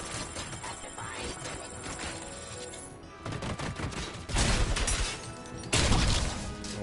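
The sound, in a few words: heavy machine gun firing in a PS5 video game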